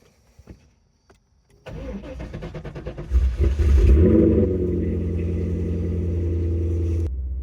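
A C5 Corvette with a suspected fuel filter or regulator fault cranks briefly and fires up, settling into a loud, steady idle close by with no talking.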